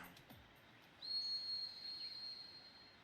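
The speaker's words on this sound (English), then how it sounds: "It was a Fukoshi whistle. 2 of them." Fukoshi whistle in the video game Devil Summoner Raidou 2, a thin high sustained tone that sounds once faintly and then fades into quiet background hiss.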